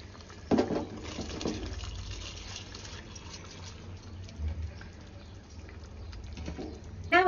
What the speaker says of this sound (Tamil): நம்ம ஊற வச்சிருந்த அந்த பாஸ்மதி ரைஸை இதில் சேர்த்துடலாம்